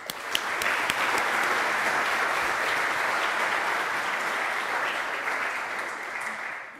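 A lecture audience applauds steadily for a speaker being welcomed to the podium, a dense, sustained clapping that holds at even loudness for several seconds before tapering slightly.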